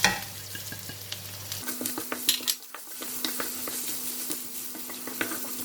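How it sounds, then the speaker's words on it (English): Curry leaves, fennel seeds and cumin seeds crackle and sizzle in hot oil for a bitter gourd masala, with sharp spattering pops, metal spoon clinks against the pan and stirring scrapes, close and busy with no talking. "I'm going to put in all this curry leaf and all this fennel seed and cumin seed."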